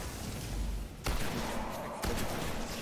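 Two sharp, booming shotgun blasts about a second apart in the sci-fi shooter Destiny, loud and close over a dense game-combat background, each with a brief rumbling tail.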